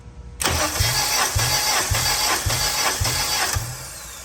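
A car engine cranks over on the starter with the plug out for a cylinder compression test, six steady rhythmic compression pulses chugging at an even pace without firing, close and loud.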